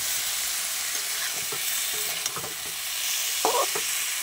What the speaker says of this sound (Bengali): আমি পেঁয়াজ শুকনো লঙ্কা পাঁচফোড়ন দিয়ে ভাজা করছি।